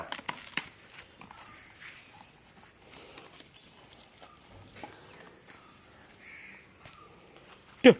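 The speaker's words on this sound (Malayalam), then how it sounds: "കാക്ക കാക്ക കാക്ക എവിടെയാ" A crow caws repeatedly outdoors, the calls coming in scattered bursts at moderate distance, with light footsteps and rustling around them and a sharp loud knock right at the end.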